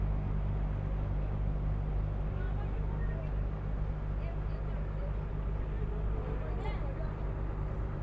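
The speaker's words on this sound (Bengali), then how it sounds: "দেখো ওই বোটটা চলে যাচ্ছে" A boat motors across the water on the trip from Bakkhali to Jambudwip, heard from on board as a constant low engine rumble and wash, with a voice talking over it.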